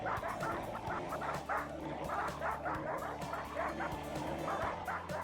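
Labrador dogs in a boreal forest bark, yip and whimper in a steady, overlapping clamor at close range, with no pause across the stretch.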